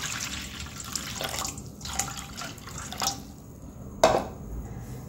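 Urad dal with its skins on is rubbed and washed by hand in water, making soft sloshing and splashing with a few distinct drips and pours, close and fairly quiet.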